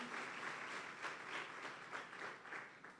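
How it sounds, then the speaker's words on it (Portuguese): Church audience applauding during an evening service, a continuous, fairly faint crowd clapping with a soft, even texture and slight surges, heard without talk on top. "Mais forte esse aplauso ao Senhor nessa noite."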